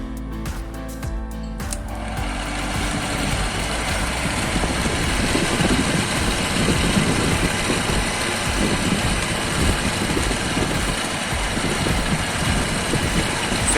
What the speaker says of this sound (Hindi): आप लोग सुन सकते हैं हवा कितनी ज़ोरों से बाहर निकल रहा है।